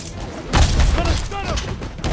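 Gunfire in a PS4 video game, a dense booming volley of shots close and loud, with game voices calling out over the din.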